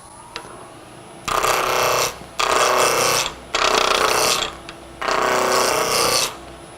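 A woodturning lathe rounds off a wooden knob in four loud, rasping cutting bursts separated by short pauses, with a steady machine hum in between.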